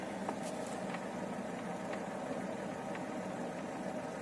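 A VAZ 2101 engine with an OZON carburettor idles steadily with a low, even rumble and faint rhythmic ticking, unchanging throughout.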